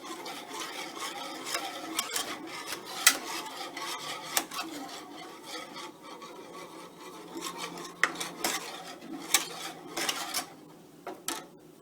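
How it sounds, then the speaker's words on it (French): Pastry cream for a strawberry coupe is mixed in a bowl, with irregular scraping and rubbing strokes and occasional sharp clinks of the utensil against the bowl, fairly quiet and close. "Maintenant, je vais commencer à mélanger."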